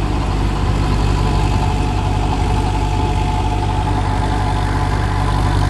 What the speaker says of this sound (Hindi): ना कोई ट्रैक्टर पर लोड है, ना कोई वाइब्रेशन है रूटावेटर में, डबल साफ्ट रूटावेटर है।